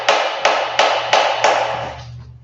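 Hammer blows on metal while working on a 1976 Ford Econoline van: five loud, sharp, ringing strikes at a steady rhythm, each decaying briefly, close up and with no voices.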